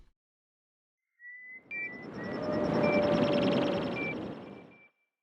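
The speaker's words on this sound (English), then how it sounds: "Here's the layer that is made from bird calls." A layer built from bird calls, processed into a wash of noisy texture threaded with thin whistling tones and rapid chirps, rising and fading over about four seconds, with no talking.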